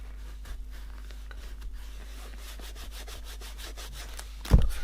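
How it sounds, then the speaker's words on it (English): Close, soft rubbing strokes come from buffing snake skin leather dress shoes, a faint repetitive brushing that ends in a brief louder knock. "I think that's actually going to work well on a light sort of just buffing over."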